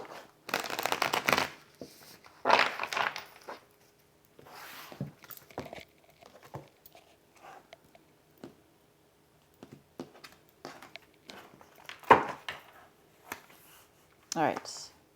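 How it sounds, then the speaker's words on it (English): Tarot cards with an unusual texture are shuffled close up in quiet bursts of riffling and slapping, separated by pauses, while a person talks softly between them. "I'm having a hard time shuffling them. They have a different texture to them than most of the cards I have."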